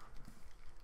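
Horse hooves clip-clop in the video game Horse Racing 2016, a quick run of soft, rhythmic hoof thuds, faint and brief.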